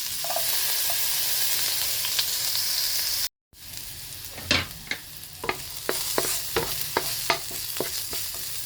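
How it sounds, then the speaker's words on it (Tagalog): Sliced garlic sizzles in a pan with a steady hiss, then after a brief break a utensil scrapes and clicks against the pan repeatedly while the frying continues, close up with no talk. "magigisa tayo ng sibuyas at bawang"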